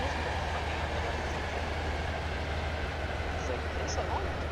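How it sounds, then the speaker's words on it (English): A long Stepford Express train runs along the line in the Stepford County Railway game, a continuous low rumble and wash of rail noise at steady volume with faint high tones. "That is a very long train, because long trains exist."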